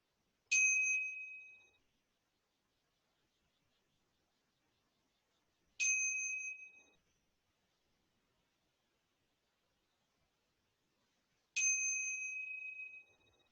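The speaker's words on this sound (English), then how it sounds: "really tune in to the sound of the bells and let those remind us to really enter into this experience" A meditation bell rings three times at even intervals of about five seconds, each strike a clear, bright ding that rings on and fades into silence, with nothing else audible.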